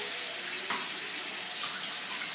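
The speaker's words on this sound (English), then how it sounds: "No, I need you to turn the water off, Nolan" Kitchen tap water runs in a steady, even hiss while someone cooks, continuous and fairly close throughout with no voices.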